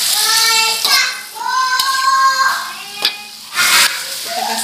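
Bitter melon with green chili and tomato stir-fries in a pan, with brisk spatula scrapes and stirring strokes over a soft sizzle, the clatter coming in uneven bursts up close.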